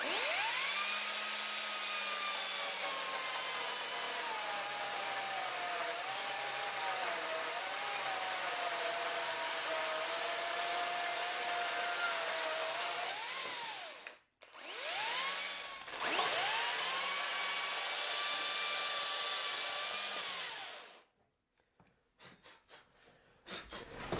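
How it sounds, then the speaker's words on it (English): A chainsaw cuts timber to form tenon ends for the wind braces of a timber-framed greenhouse. The saw runs loud and close in long revving stretches, drops out briefly, then returns before cutting off near the end. "Just cut these out with a chainsaw, probably then tidy them up with a plane."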